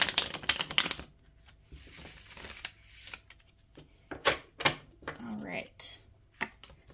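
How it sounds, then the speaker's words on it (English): Tarot cards being shuffled by hand during a full moon reading, giving bursts of riffling and soft slapping in short irregular clusters, close by with quiet pauses between. "I'm going to shuffle one more time"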